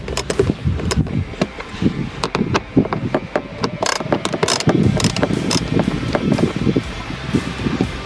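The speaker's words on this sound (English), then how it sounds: "now we're going to get these 10mm bolts out." A hand ratchet clicks rapidly while loosening 10mm bolts on the dash speaker of a 2020 Toyota RAV4 LE, close and loud, in quick bursts of sharp metallic ticks with short pauses between strokes.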